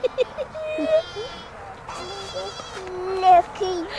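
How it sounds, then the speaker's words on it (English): Goats, including baby goats, bleat at a farm also holding alpacas, several short high bleats scattered across the scene at close to mid range, with people talking and a voice mixed in. "there are goats, baby goats too, and alpacas"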